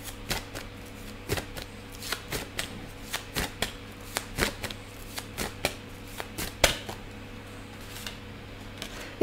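Tarot cards are shuffled by hand in quick, crisp bursts of riffling and flicking, close and clear, repeating irregularly with short pauses between.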